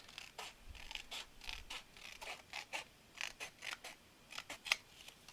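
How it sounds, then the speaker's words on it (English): Scissors snip through paper while a page is cut for a craft mini album pocket, a close, quiet run of crisp crunchy cuts in an uneven rhythm with no talking. "I'm just going to take my scissors and cut it."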